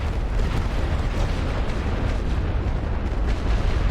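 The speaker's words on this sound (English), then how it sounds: "here comes the artillery" Artillery fire in The Great War: Western Front, a continuous dense rumble of overlapping distant booms and bursts, loud and low-heavy throughout with no pauses.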